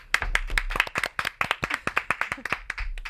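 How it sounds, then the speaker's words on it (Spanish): A small studio audience of just three people gives a thin, brief round of applause, the separate claps easy to pick out as a sparse, uneven patter close to the microphone. "el aplauso más triste del mundo, tres personas"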